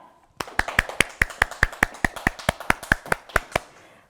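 Applause greets a guest researcher at a Korean Saturday science lecture on autonomous driving: about sixteen sharp, evenly spaced claps ring out close and clear, with no talking over them.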